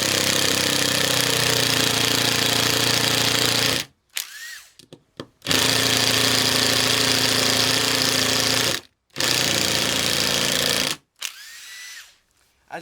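Makita 12 volt cordless drill, model 6980 FD, running on a partly drained battery in three long bursts separated by brief pauses, loud and close with a steady motor whine and no talk.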